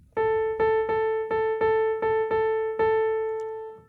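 A piano repeats the same note in an even eighth-note pulse, eight crisp strikes in a row, the last one left to ring and fade.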